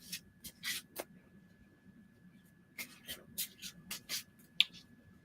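An Ator Tarot card deck is shuffled by hand, making crisp papery riffling bursts in two clusters separated by a short quiet pause, close and fairly soft.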